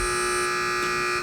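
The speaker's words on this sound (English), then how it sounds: "Teams, wait for the buzzer if you'd like to answer." A quiz match buzzer giving one continuous loud electronic tone that holds steady for over a second before cutting off, with no voices.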